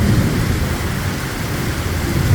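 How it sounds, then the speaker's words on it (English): Heavy night rain falls steadily over Quezon City, a dense, continuous wash of rushing noise with a deep low rumble beneath it, loud and close throughout with no voices. "Praise God for the rain."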